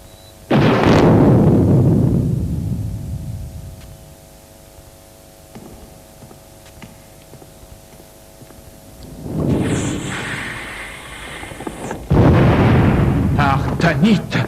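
A black powder charge goes off with a loud, booming blast, followed by a quieter stretch with a faint tone, then more heavy rumbling bursts and crashing debris toward the end.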